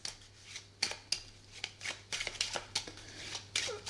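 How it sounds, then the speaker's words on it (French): Cards from the Heroes of Tenefyr board game are shuffled by hand, giving a quiet, close run of soft riffles and flicks in irregular bursts, with no voices. "j'ai mélangé toutes les cartes de tous les niveaux"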